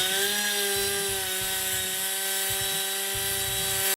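A cutoff wheel grinds through a small metal piece to cut it to length, producing a loud, sustained high whine with a rough rasping edge for about four seconds before stopping abruptly.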